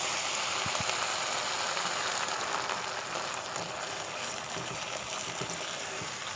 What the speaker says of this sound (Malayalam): ഇനി ഗ്രേവിക്ക് ആവശ്യമായിട്ടുള്ള വെള്ളം.